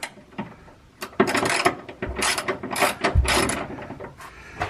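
A ratchet with a 30 mm socket snugs bolts while side steps are fitted to a 2020 Ram 1500 Laramie in a garage. Loud, close bursts of rapid clicking come in several runs separated by brief pauses.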